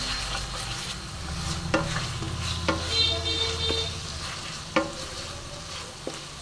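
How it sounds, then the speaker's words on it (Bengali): Bone-in chicken with spices stir-fried in a pan, giving a continuous sizzle broken by occasional scraping knocks of the spatula, near and with no one talking. "এবারে আমি ভালো করে কষে নেবো"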